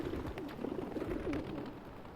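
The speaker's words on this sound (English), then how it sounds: "Birds." Birds coo softly and repeatedly in an outdoor scene in downtown Seattle in The Last of Us Part II. The cooing carries through a steady background hiss.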